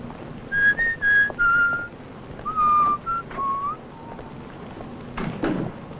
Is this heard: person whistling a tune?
yes